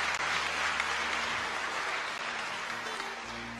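A church congregation applauds steadily, a dense, continuous wash of clapping that holds at an even loudness throughout with no voices standing out.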